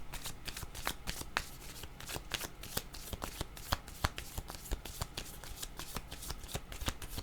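A deck of tarot cards being shuffled close up, a steady, rapid riffling patter of many overlapping card flicks that runs without pause and without talk.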